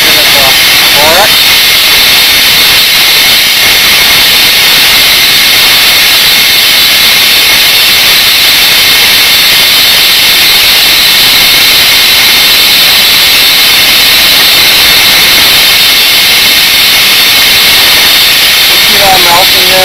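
Steady roaring hiss of a torch flame heating a carbon rod before dipping it in borax for melting gold with alloy, loud and continuous throughout, with brief faint voice traces.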